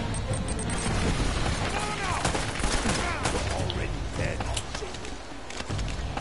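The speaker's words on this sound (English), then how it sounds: "Will you stop throwing grenades at me?" Grenade blasts and rattling gunfire rumble through a firefight in Uncharted: Drake's Fortune, a dense, fairly distant barrage that continues throughout, with a voice talking over it.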